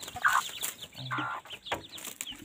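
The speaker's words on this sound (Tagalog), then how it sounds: "Nag-aaway-aaway sila sa pagkain." Several chickens on a farm cluck and squawk in short, agitated bursts close by as they fight over food, overlapping one another with scratchy background noise.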